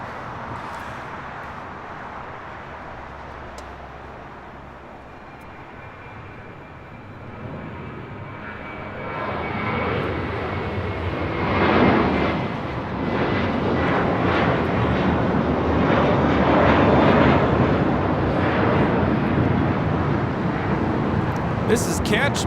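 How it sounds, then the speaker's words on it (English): A JetBlue Airways jet takes off from LAX, bound for Miami, its engine rumble building steadily from a moderate distance and rising to a strong roar in the second half, with a voice speaking over it at times. "Taking off to Miami, Florida. It's JetBlue Airways 2885."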